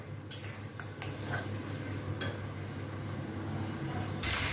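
Quiet scraping and clinking of a spoon stirring spice paste in a pan, with occasional sharper metallic taps over a low steady hum.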